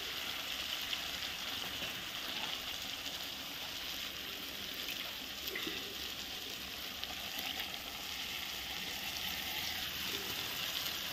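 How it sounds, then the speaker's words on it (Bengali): Spice paste and potatoes fry in a pan with a splash of water, a soft steady sizzle that stays low and even throughout, with faint background noise. "এখন আস্তে আস্তে মশলাটা ভালো করে কষিয়ে নিচ্ছি"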